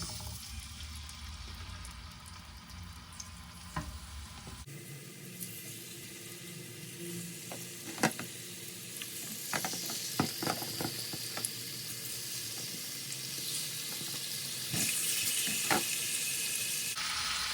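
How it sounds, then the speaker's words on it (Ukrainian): Marinated chicken laid into hot oil for a stew in tomato and sour-cream sauce: a steady sizzling hiss begins abruptly, studded with scattered pops and sharp clicks, with no one talking. "Викладаємо тепер на розогріту олію, викладаємо підсмажуватися наше замариноване м'ясо."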